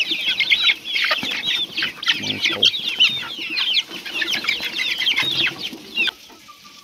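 Some two hundred free-range country chicks peep constantly and shrilly at feeding time on a farm, a dense close chorus with faint lower clucks beneath and a brief spoken phrase.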